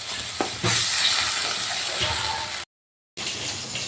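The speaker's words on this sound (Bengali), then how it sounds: "এবার দিয়ে দিলাম সামান্য একটু জল যাতে মশলাটা তলায় না লেগে যায়" A little water poured into masala frying in a pan for a pomfret curry, giving a sudden loud hiss that settles into a steady sizzle, broken by a brief silent gap before the sizzling resumes.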